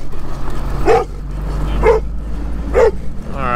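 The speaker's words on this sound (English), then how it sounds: "So what is this random dog?" A dog barks three times in a farming video game, evenly spaced short yaps over a low steady rumble, fairly close.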